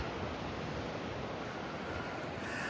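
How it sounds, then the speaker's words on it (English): Ocean waves at the Giant's Causeway in Northern Ireland make a continuous broad roar of surf mixed with wind buffeting the microphone. "noise of the waves, really, we can hear, and we are seeing it"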